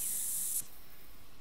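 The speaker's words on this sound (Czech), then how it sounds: "Jo, já se zase trošičku tady nacákám tady tím sprejem" Scent spray from a handheld can in the hunting game The Hunter: Call of the Wild hisses in one steady, loud burst of just over half a second, then stops abruptly.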